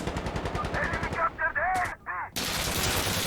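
Gunfire rings out in the video game Insurgency: Sandstorm, loud overlapping shots and bursts layered with dense game noise, ending in a sustained roar of fire.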